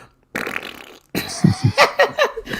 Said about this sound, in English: I can tell you're getting ready to fart.